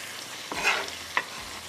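Chicken and onion frying over a high flame, a steady sizzle with a couple of brief stirring scrapes, close and alone.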